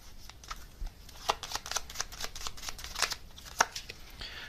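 A deck of gummy bear tarot cards is shuffled by hand in a quiet room, with rapid, irregular crisp flutters and riffles in quick bursts, close and fairly soft.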